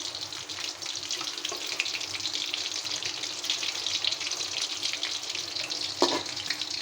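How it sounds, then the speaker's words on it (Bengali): Sticks of gram-flour and rice-flour batter fry in oil with a constant, even bubbling hiss that stays close and moderately loud for the whole stretch, broken by one brief clatter near the end. "আমি উল্টে পাল্টিয়ে ভালো করে মুখে লাল লাল করে ভাজা নেব"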